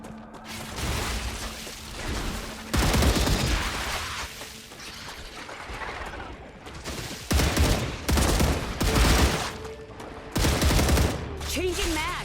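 Assault rifle fire in the sci-fi survival game Star Rupture, arriving as several loud rapid bursts separated by quieter stretches of ambient game noise, with mechanical clicks and a faint voice in between.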